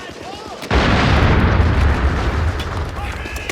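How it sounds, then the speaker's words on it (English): A grenade blast erupts in a World War I trench, a sudden loud boom followed by a long rumbling roar that slowly fades. "Grenades! Grenades! Grenades!"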